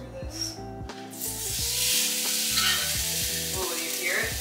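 Vegetables frying in a pan as they finish cooking, a steady close sizzle and hiss with clattering stirring clicks at the start, loud and continuous.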